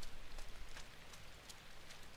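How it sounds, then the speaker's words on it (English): Quiet, steady rain ambience in the dark puzzle-platformer INSIDE, a soft continuous patter with faint scattered drops and no voices. "the whole atmosphere by the rain and the background sounds and such"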